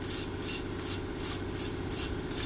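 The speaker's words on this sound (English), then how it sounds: "Brake cleaner." Brake cleaner sprays onto the front and rear brakes of a Toyota RAV4 in a run of about six short, loud hissing bursts in a steady rhythm, close up with no talking.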